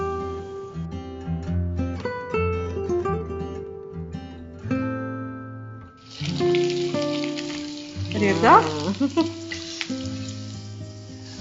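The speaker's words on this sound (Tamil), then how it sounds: "2 சைடும் திருப்பி விட்டு பொரிக்கணும்." Ommapodi vadam, a Tamil fried snack, dropped into hot oil and fried, with a steady crackling sizzle throughout and a louder burst of bubbling toward the end, and a voice speaking briefly over it.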